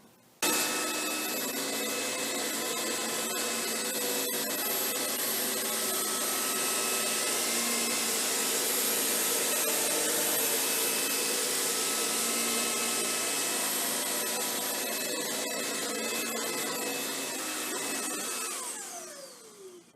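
A Shark WandVac handheld vacuum cleaner roars steadily at close range with a high whining motor tone, running continuously before winding down at the end.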